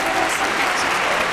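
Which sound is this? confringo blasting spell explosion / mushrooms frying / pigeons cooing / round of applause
round of applause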